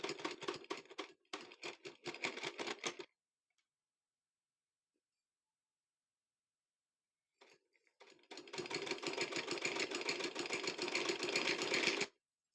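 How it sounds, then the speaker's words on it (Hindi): Sewing machine stitching trouser pant fabric: a fast, rhythmic mechanical clatter runs for about three seconds, stops into silence, then resumes for a longer, steady stretch of close, even stitching. "मुकम्मल कपड़ा बराबर रखते हुए सिलाई लगानी है"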